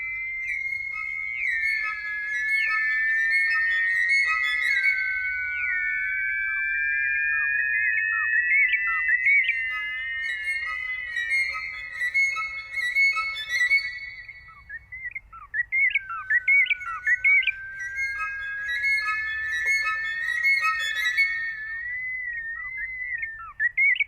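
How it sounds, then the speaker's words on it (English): Birdsong plays through violins used as loudspeakers: long, warbling whistled phrases with chirps and trills, clear and close, pausing briefly midway before resuming, no voices. "You are literally hearing the bird sounds projected from a violin."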